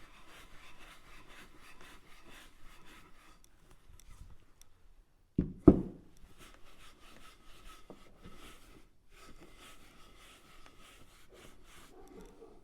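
A cloth buffs Odie's Oil finish into a wooden surface with a soft, steady rubbing swish, quiet and close, broken once by a brief louder knock or bump.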